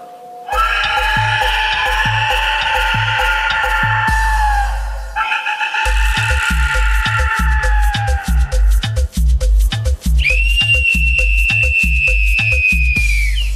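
Pre-Hispanic clay whistles imitate the wind, with shrill, wavering, chaotic tones layered over a steady pounding drum beat, and a piercing high whistle rises near the end.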